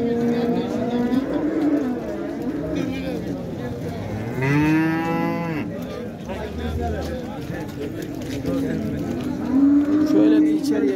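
Cattle, including a barren cow, moo at a livestock market, with several long, loud lowing calls rising and falling over the near, continuous talk of people.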